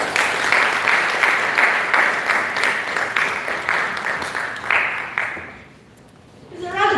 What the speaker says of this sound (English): It's a round of applause for her.